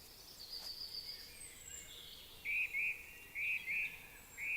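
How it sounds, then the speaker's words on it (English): Birds call in the early evening outdoors, with a few thin high chirps early on and then a run of five short, bright, evenly spaced notes standing out over a soft, steady background hiss. "early evening's the best time to hear the birds, because there's all this kind of activity going on"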